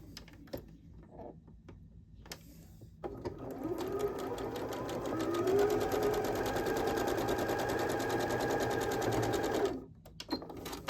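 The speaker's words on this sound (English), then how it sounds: "I go ahead and cut my corner first, sew down my 1/4 inch seam." A sewing machine stitches a quarter-inch seam across a quilt block. After a few soft handling sounds, the motor runs in one continuous, close, rapid whir for about seven seconds and then stops.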